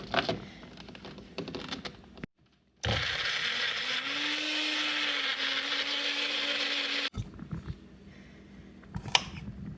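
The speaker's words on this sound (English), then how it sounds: "Put them in the magic bullet." A Magic Bullet blender chops grape tomatoes in one loud, steady whirring burst of about four seconds, framed by quieter handling clatter before and after and a brief silent gap just before the motor starts.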